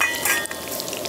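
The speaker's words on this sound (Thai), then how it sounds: "นี่กระทะนี้กำลังทอด" Salmon fries in a pan at a riverside campsite, a close, steady crackling sizzle that keeps going through the whole short stretch with no talk.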